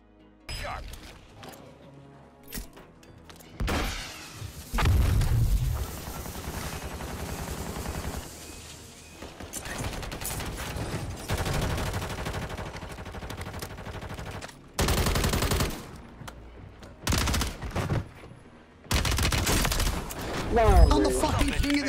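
BAS-B rifle gunfire in Warzone 3, loud rapid bursts and fusillades recurring through the stretch with distant shots between, while players talk over the shooting.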